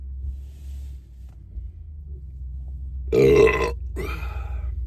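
Two loud, close burps in quick succession, the first longer and deeper, over a low steady background hum.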